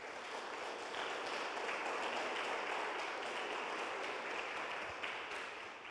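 A church congregation applauds in dense, sustained clapping that fills the room evenly, steady throughout and fading slightly at the end, with no talking.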